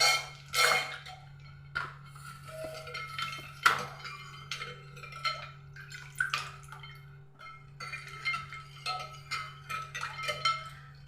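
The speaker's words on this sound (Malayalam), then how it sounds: "നമുക്കിതിലേക്ക് ഒരൽപ്പം ഐസ് ക്യൂബും കൂടെ ചേർത്ത് കൊടുക്കാം" Ice cubes drop and clink into a glass of chilled hibiscus flower drink, with several sharp, bright clinks and small splashes close by against a steady low background hum.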